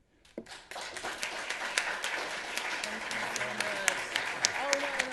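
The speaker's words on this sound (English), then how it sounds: "Let's give him another round of applause." An audience bursts into sustained applause after a lecture, dense clapping building quickly and continuing steadily, with a few voices and cheers mixed into the crowd noise.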